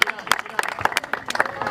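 Crowd applause greets an official being welcomed at a Punjab Culture Day cricket match event, sharp irregular claps fairly close and loud over a murmur of voices.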